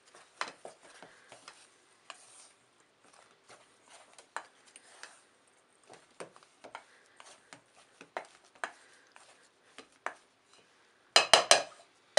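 Ganache mixed in a bowl, giving scattered light clicks, taps and scrapes of a utensil against the bowl, quiet and close, ending in a louder rattling burst, with no talking.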